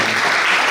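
An audience at a vote of thanks gives a dense, steady round of applause, loud and continuous from start to finish.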